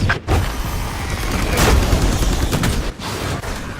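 Loud bursts of gunfire from Valorant during a post-plant round, rapid shots and bangs layered over each other with short pauses between.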